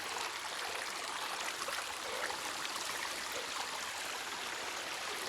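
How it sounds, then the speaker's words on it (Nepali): Steady rushing of stream water flowing across a wet, waterlogged hiking trail near Dhampus, Nepal, an unbroken close wash of noise with no talk over it. "यस्तोभरि पानी पानी छ. मेरो जुत्ताभित्र पानी पसिसक्यो."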